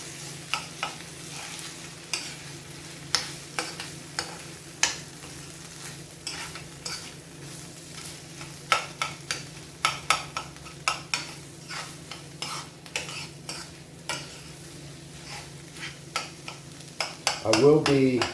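Chorizo and egg frying in a pan sizzle steadily while a utensil scrapes and taps the pan in irregular strokes, growing busier near the end. A low hum runs underneath.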